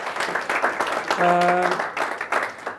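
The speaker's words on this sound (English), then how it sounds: "So big round of applause for our lovely audience coming out and supporting our show." Applause and clapping from a crowd, dense and steady throughout, with a brief tonal sound rising out of the noise midway.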